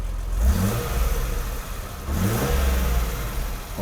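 A Mercedes-Benz W116 280SEL engine, just repaired after a faulty fuel distributor, revs twice with the throttle, rising sharply each time before settling back toward idle, close and fairly loud.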